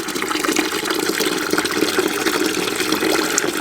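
Water pours steadily out of a Porsche Boxster engine during a flush, making a continuous close gushing, splashing rush with no pauses.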